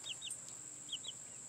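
Soft, high chirping peeps in two quick pairs come from young Barred Rock and Asian Black chickens on a roost, faint and close against a quiet room hum and a thin steady tone.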